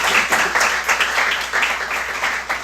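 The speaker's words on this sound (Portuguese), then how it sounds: "Você pode aplaudir ao Senhor com o seu melhor?" A church congregation applauding together in a loud, dense burst of clapping with uneven swells, heard alone without speech.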